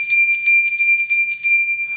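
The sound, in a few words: Polar Express bell ornament ringing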